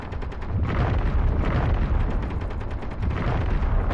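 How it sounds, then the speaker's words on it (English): In the video game Escape from Pertam, heavy gunfire and explosive booms rumble continuously outside, a dense, low, muffled barrage of rapid shots heard from a distance without pause. "a lot of gunfire out there"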